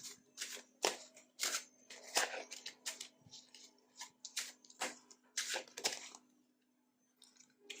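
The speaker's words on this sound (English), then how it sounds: "Probably not the best way for me to shuffle in this tiny space that I'm using." Tarot cards are shuffled by hand in a cramped space, producing a steady run of crisp riffling slaps and flicks at close range, then trailing off.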